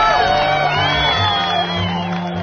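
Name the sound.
theatre audience cheering at the end of the show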